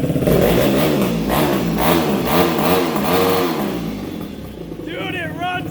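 A 2023 Yamaha YFZ 450R ATV engine with a modified ECU revs up and down repeatedly with rising, wavering pitch, close by, then settles toward a lower throttle near the end.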